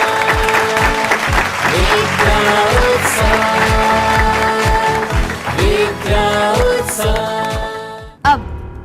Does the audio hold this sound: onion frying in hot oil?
no